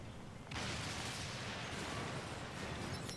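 A sudden loud, sustained roar of gunfire-like blasts bursts in after a brief quieter moment and continues densely, like rapid cannon fire in the game Nier: Automata.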